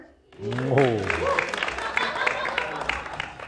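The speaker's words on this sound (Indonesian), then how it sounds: "Boleh minta tepuk tangannya?" Applause from an audience at a stand-up comedy showcase, with a brief voice at the start, then a dense wash of clapping that holds steady and close for about three seconds.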